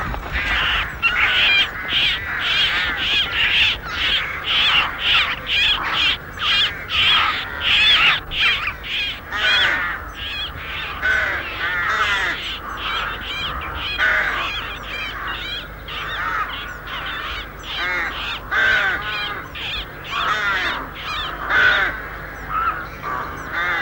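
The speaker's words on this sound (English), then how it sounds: "I like the raucous sounds they make, especially when the young rooks are being fed." A flock of rooks caws raucously and continuously, harsh overlapping calls in a busy rhythm, fairly close and loud.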